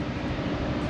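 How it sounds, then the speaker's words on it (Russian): A Honda Forza motor scooter pulls away on a street in Thailand, its engine a close, steady droning roar filling the whole second with no talk. "Отправляемся мы с вами на экскурсию на нашем прогулочном байке"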